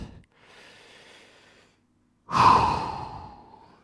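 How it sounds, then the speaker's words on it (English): Deep breathing after a home strength and mobility workout: one slow, soft inhale, then a pause, then a loud, close exhale like a heavy sigh, with no speech. "Take a few deep breaths."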